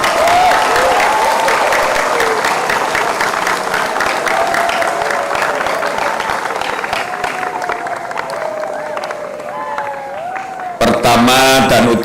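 A large crowd of scouts at a city Scout Day ceremony claps in a broad, loud wash, with voices and whistly tones running underneath before it cuts off abruptly near the end.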